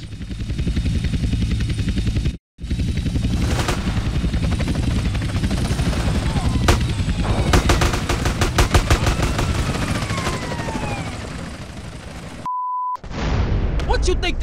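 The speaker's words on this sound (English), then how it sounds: "Choppers coming in on an intercept. Can you see them? Yeah. Shoot them down!" Helicopters roar through a GTA San Andreas mission while loud bursts of machine-gun fire rattle in rapid volleys, with a brief electronic beep near the end, all dense and continuous.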